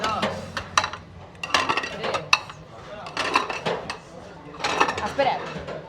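Plates and cutlery clatter and clink as dishes are stacked at a restaurant table in Tokyo, a busy run of close, irregular clinks and knocks.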